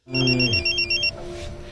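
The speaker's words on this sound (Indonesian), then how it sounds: "Du Seok begitu kaget mendapat telepon dari si Jaminan" A phone rings loudly and close with a warbling electronic trill that repeats for about a second. A low falling tone sits beneath it, and a faint steady hum lingers after the ring stops.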